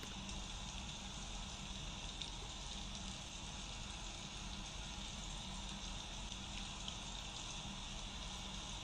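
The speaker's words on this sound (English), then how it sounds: "On bare soil, the rain splats on the clay, while fir needles swallow it up with an audible gulp." Steady rain falls on bare clay soil and fir needles, a soft constant patter with faint scattered drops, even and uninterrupted with no voices.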